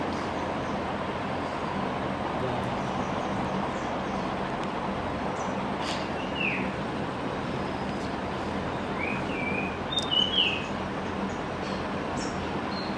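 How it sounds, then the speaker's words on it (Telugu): Several short bird calls chirp faintly in the distance over a steady wash of outdoor background noise, clustering around the middle and near the end with no speech. "ఇప్పుడు ఒక పక్షి అరుపు వింటున్నాం మనం."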